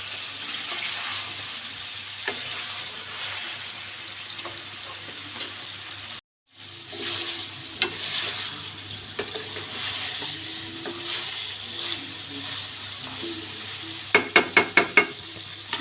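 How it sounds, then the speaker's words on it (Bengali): Chicken, small potatoes and vegetable stems sizzle steadily in a pan, broken by occasional stirring scrapes. A short cut to silence falls midway, and a quick series of sharp metallic taps comes near the end. "এখন আমি ডাটাগুলো দিয়ে আর 5-7 মিনিট কষিয়ে নেব"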